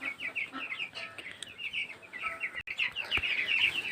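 Chickens on a home poultry setup cluck and chirp continuously near at hand, a busy overlapping chatter of the flock with no talk over it.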